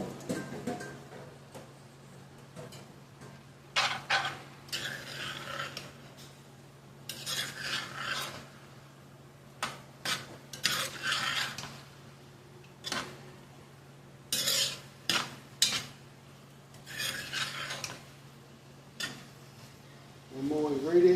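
Pork stirred back into a restored cast iron pot with gravy, producing repeated rasping scrapes of a utensil against the iron in uneven bursts, close and moderately loud over a low steady hum.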